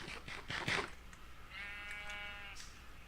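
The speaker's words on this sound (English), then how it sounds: "Oh yeah, I have a sheep." A sheep in the Minecraft TerraFirmaCraft mod bleats, a quiet wavering bleat held for about a second, following a few short rustling thumps at the start, with no voices over it.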